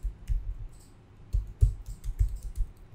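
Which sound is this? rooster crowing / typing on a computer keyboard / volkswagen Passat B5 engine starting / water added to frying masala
typing on a computer keyboard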